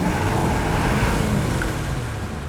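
A Ram truck's 6.4 gas engine runs with a loud, steady, close rumbling drone while driving over desert terrain, with no voices.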